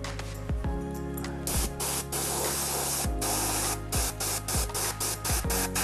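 Compressed air hisses steadily through a Patriot 105 airbrush on its airline, with a run of short clicking pulses as the trigger action is worked.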